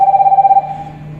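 A mobile phone rings in a fridge shop, a loud pulsing electronic tone with rapid repeated beats that breaks off partway, leaving a softer trailing hum.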